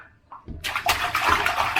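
Children splashing in bath water indoors, starting from near silence and then bursting into close, loud sloshing and splashing that continues steadily.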